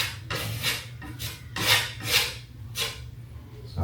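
Sanding dried drywall compound (spackle) by hand in a salon; close, coarse scraping strokes in an irregular back-and-forth rhythm, each swelling and fading, with no talking.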